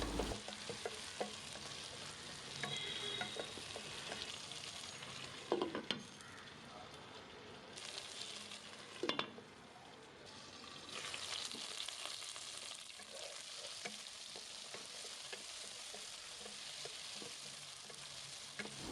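Chicken pieces fry in a pan for karahi chicken, a soft, fairly quiet sizzling hiss that swells and fades over time, with occasional utensil taps and scrapes and no voices.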